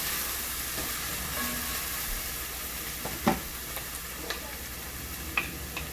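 Food cooking in a pan over medium heat for lasagna, a soft steady sizzle with a few small clicks and taps from stirring, no voices.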